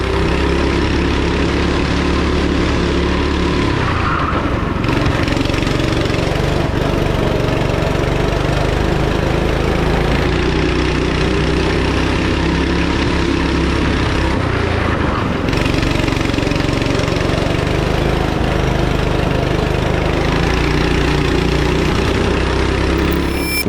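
A go-kart engine roars continuously on a track, loud and close, its pitch rising and dipping through revs over a steady mechanical drone.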